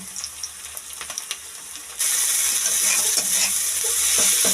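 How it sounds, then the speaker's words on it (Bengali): Ginger, garlic and chili fry together in a pan for a prawn and banana-flower dish, with a soft sizzle and light stirring that jumps to a loud, steady hiss partway through. "আদা রসুন আর লঙ্কা একসঙ্গে কষিয়ে নেওয়া হচ্ছে"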